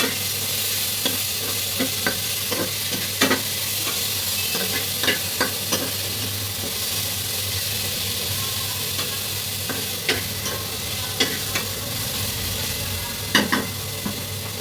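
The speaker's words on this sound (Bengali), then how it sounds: "এখানে আমরা রসুন এবং পেঁয়াজের পেস্ট দিয়ে দিলাম অল্প করে, দিয়ে আমরা আর একটু ভেজে নেব" Garlic and onion paste fries in a pan for a hilsa fish curry with pumpkin vadi and brinjal, giving a steady broad sizzle with sharp, irregular scrapes and taps of a stirring spoon throughout.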